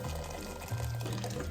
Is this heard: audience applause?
no